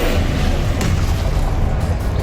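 A Confringo blast spell goes off in Hogwarts Legacy, producing a loud, dense, rumbling boom that fills the whole stretch with sustained low-heavy noise.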